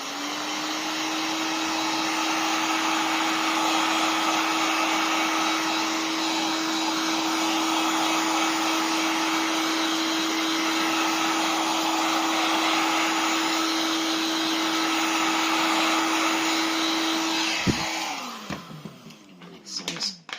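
Hair dryer blowing steadily and loudly on a paper craft piece for a Christmas star tree, a constant whine that cuts off near the end, followed by faint rustling.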